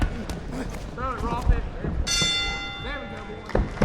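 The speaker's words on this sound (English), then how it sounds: "that's the bell end of the third round" A boxing bell rings to close the third round of an exhibition bout, one bright clang ringing out and lingering under excited commentary and crowd noise.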